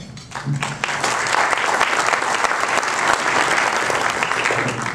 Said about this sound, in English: Would you please welcome their president and CEO, Adam Crossno.